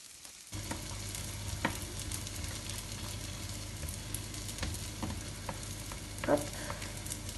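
Msemen flatbread sizzles steadily in a hot pan, a continuous dense crackle of frying that starts abruptly after a brief quiet moment and carries on with small pops and faint stirring clicks, with no talking.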